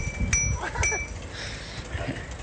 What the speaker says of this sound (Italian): Fa il campanello.